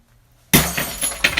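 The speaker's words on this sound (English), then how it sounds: "we did some glass breaking for the first time" Glass smashed in a box with a glass panel at the bottom, recorded for a song: silence, then a sudden loud crash followed by scattered tinkling shards and a second impact.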